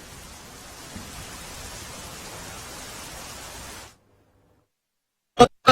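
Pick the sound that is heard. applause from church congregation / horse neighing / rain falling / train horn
rain falling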